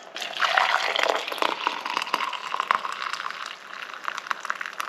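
Hot pickling brine, tinged light brown with brown sugar and carrying seeds, is poured from a pan into a jug, giving a steady close splashing gush of liquid over several seconds with no talking.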